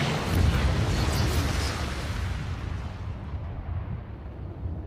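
A magic cannon in an anime movie fires as a deep, rumbling blast that rolls on and slowly fades over several seconds.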